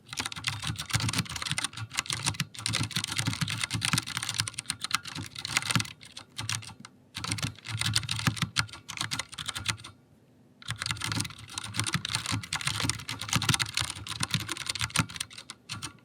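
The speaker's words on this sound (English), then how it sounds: "So that was a sound test on a Vortex that has been typed on for pretty much over a year now." Continuous fast typing on a Vortex Race 3 75% mechanical keyboard with Cherry MX Clear switches, worn in by over a year of use, close and clear, with a short pause near the middle and no talking.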